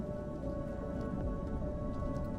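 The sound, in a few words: rain falling in Rain World video game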